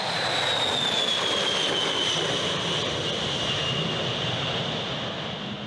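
Bomber aircraft engines keep running during hot pit refueling, a loud, steady jet roar with a high whine slowly falling in pitch, close by and continuous, with no talk.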